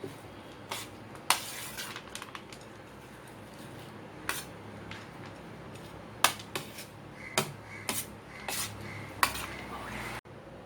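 Lemon rice is stirred in a metal pan, with scattered clinks and scrapes of a spoon against the pan over a quiet kitchen background.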